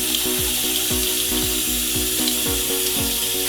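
Running water splashes steadily over makeup brushes being rinsed at a sink, a continuous close hiss with faint repeated low thumps as the bristles are worked under the stream.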